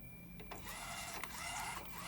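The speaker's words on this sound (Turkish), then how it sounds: "Printer basıyor şu anda." An Epson L1800 DTF printer runs a print job, giving a steady whirring mechanical drone with faint shifting clicks and carriage movement throughout, nearby and alone.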